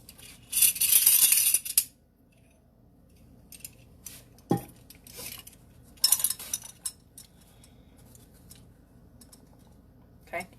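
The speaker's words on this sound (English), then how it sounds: "let me get my measuring spoons here" Metal measuring spoons clatter and clink in a home kitchen while baking a sour cream pound cake, a loud jangling burst followed by scattered lighter taps and clicks, close by with quiet gaps between.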